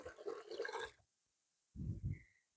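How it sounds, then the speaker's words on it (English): Water is poured onto diluted rabbit urine in two separate bursts, a splashing gush, then a pause, then a shorter pour, close and fairly quiet. "And then just pour about 10 times the amount of water on it."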